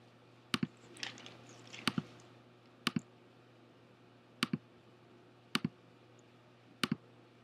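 A computer mouse clicks in quick double taps, six crisp pairs spaced a second or so apart over a quiet background hum.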